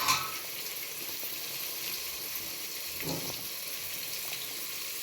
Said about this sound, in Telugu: బీన్స్ కూడా వేసి వేయించుకోండి.